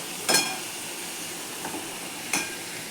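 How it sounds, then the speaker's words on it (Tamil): Cluster beans with onion and tomato sautéing in a pan, a soft steady sizzle with a few brief louder scraping stirs, close and alone. "இந்த மாதிரி நல்லா வதக்கிக்கோங்க."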